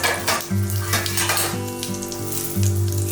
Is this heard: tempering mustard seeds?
yes